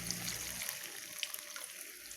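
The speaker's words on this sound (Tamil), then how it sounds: "அப்புறம் நம்ம தண்ணி சேர்த்துடலாம்." Water is poured into a masala being fried in oil for an ivy gourd curry, giving a faint, steady splashing hiss that lasts about two seconds with no talk over it.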